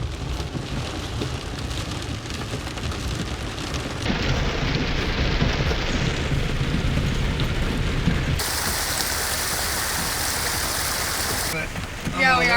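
Heavy rain pouring steadily during a thunderstorm in open hunting country, a dense, loud, continuous wash that swells and shifts as the downpour intensifies.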